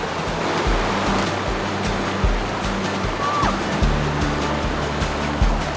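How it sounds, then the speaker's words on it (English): The biggest waterfall along a multi-day bushwalk on the Hume & Hovell Track, a steady, full rushing roar of falling water that fills the whole stretch without letup. "We've come across so many little hidden waterfalls, but this one's definitely the biggest we've seen so far."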